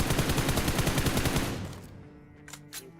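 Rapid automatic gunfire in the mobile game BGMI, a fast burst of loud evenly spaced shots lasting about a second and a half, then a short fade with a couple of faint later clicks.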